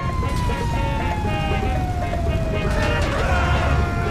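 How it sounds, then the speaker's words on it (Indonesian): A fire truck siren wails in the GTA 5 video game, one steady tone sliding slowly downward over a constant rumble of engine and game noise. "Ada mobil damkar lagi yang datang."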